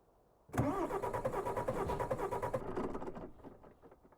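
A Renault Range T truck engine in Euro Truck Simulator 2 cranks and catches after a brief quiet moment, then settles into a steady, throbbing idle that fades slightly, with no talk over it.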